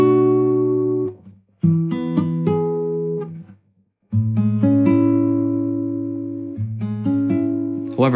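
Guitar plays a jazz/R&B 2-5-1 progression from minor 7 to dominant 7 to major 7, each strummed chord ringing for about a second with brief gaps, clean and close with no talk.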